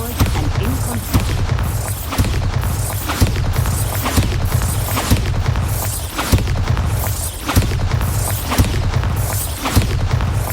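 Bombarda spell explosions in the Hogwarts Legacy video game go off in a steady rhythm, one loud deep boom roughly every second, each with a crashing burst over constant low rumbling.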